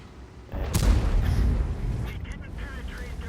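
A single artillery shell lands in a tank battle video game, a sharp boom followed by a low rumbling tail that lingers, with game ambience continuing underneath.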